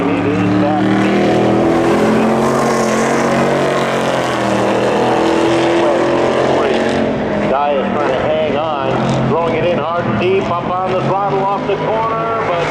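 Race cars roar off the line in a spectator drag race at Seekonk Speedway, a loud sustained engine blare that gives way to rapid revving swells, with an announcer talking excitedly over the noise.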